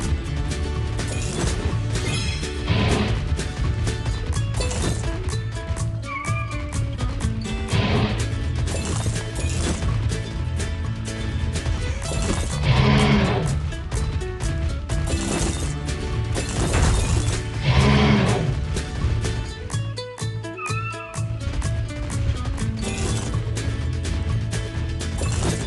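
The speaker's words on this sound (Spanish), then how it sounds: "Puedes romper las rocas para encontrar más." Rocks being smashed in a Paw Patrol video game set on a volcano mountain while collecting crystals, heard as repeated crunching breaks and cracks layered over constant game music and effects.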